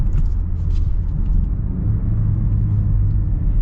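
A 2022 Mazda CX-30 Premium Plus Turbo accelerates at partial throttle in sport mode, heard from inside as a steady, loud low engine rumble with road noise and a slight rising drone.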